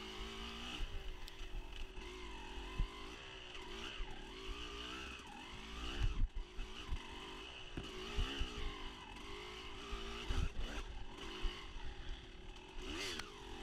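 A dirt bike engine howls and revs through a motocross race at Fox Valley Off Road, rising and falling as the rider shifts and jumps, loud and close throughout with other bikes buzzing around.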